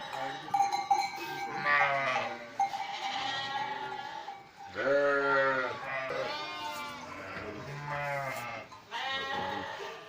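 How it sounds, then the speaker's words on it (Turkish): Several sheep bleat in a loose chorus, calls overlapping and repeating at close range, with a faint clank in the background. "Koyunlara bakın."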